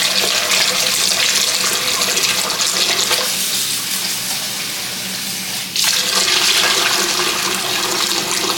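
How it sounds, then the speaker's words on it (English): Rice is rinsed under a steady stream of running tap water, a broad loud splashing hiss that softens briefly midway, then surges back strong. "So I got my rice, gonna wash it out."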